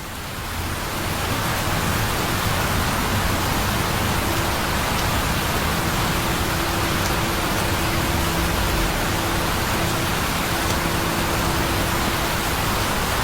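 Steady rain falling, a dense even hiss that swells up in the first second and then holds constant and loud with no voices.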